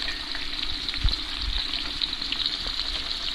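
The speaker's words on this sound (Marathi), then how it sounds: "साधारण ब्राऊन होईपर्यंत तळायचा कांदा" Onion frying in oil in a pot for chicken biryani, cooked outdoors, a steady close hiss and sizzle with faint stirring noises underneath.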